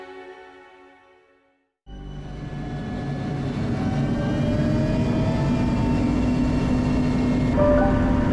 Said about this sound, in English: I had successfully found myself boarding an old Soviet helicopter to base camp.